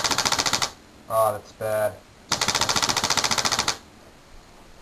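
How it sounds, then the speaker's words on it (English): A paintball gun, set off by a laser motion detector, fires as rapid mechanical clicking in two fast rattling bursts, with someone speaking briefly between them. "Each one of those clicks is a paintball firing at somebody because they just walked into one of our laser."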